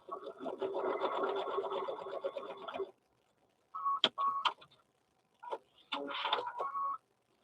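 A sewing machine stitches teddy bear fabric in bursts: a steady whirring run of about three seconds, a pause, a few short stuttering stitches, then another sustained run before stopping. It is close and fairly quiet.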